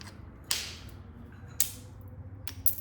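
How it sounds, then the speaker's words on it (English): Quiet steady hum of a running kiln with three sharp, isolated clicks spaced about a second apart, fairly close and crisp against the low background. "the kiln's running in the background."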